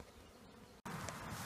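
Honeybees buzz steadily around a swarm box set out to catch a swarm, a close, continuous droning hum that cuts out for an instant and then returns louder.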